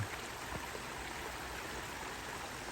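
A creek fed by a spring emerging from a hillside flows steadily on an October day among fall colors, a continuous soft rushing and trickling of water, fairly faint and even, with no talk.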